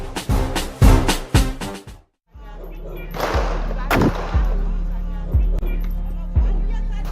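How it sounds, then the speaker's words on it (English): Loud gunshots crack in a rapid volley, then after a brief silence single shots ring out at spaced intervals over a low, steady hum. "You see and hear the gunshots almost every day of your life."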